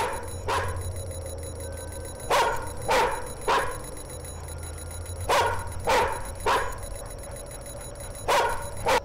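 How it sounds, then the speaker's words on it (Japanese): A dog in a horror video game barks in short clusters of two or three sharp, loud barks, repeated several times over a steady low ambient drone from the game. "ほんで、どこに向かって吠えてんねん。"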